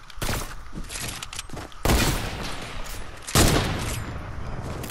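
Loud rifle fire in an online shooter game, with heavy reports and dense bursts that come in three waves, each new one striking sharply and ringing out.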